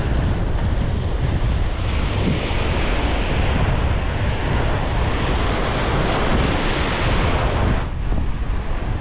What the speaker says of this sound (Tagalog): Magulong, maalon.